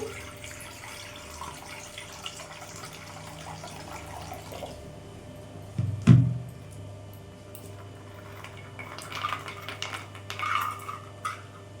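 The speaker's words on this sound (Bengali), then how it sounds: "জল দিয়ে দেবো কড়াইতে" Water poured into a kadai set on a lit gas stove, a brief splashing pour in the middle followed by faint clinks and water sounds, over a low steady burner hum, fairly quiet overall.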